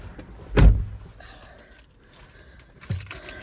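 A set of car keys jangles inside a 2020 Isuzu MU-X LS-M, a sharp metallic clink near the start and a softer rattle near the end, with quiet cabin ambience between.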